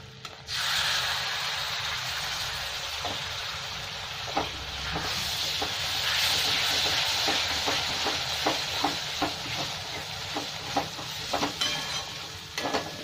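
Grated tomato frying with turmeric and other spices in a pan, a steady close sizzle with scattered stirring clicks and scrapes throughout.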